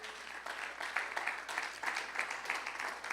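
A church congregation claps together, a soft, continuous patter of many hands heard from a distance, steady and fairly faint throughout.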